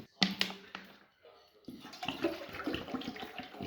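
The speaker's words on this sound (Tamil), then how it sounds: "ஸோ இப்போ வந்து நாங்கள் போய் தண்ணி ஊற்றப்போம்." Water pours and splashes close by, a few sharp splashes at first, a brief pause, then a steady gushing flow.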